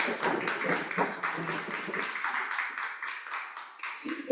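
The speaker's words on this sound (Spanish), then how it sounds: "Así que lo recibimos en esta mañana con un fuerte aplauso" Applause from a morning church gathering welcoming a speaker, a soft, moderately distant patter of many hands that fades slowly.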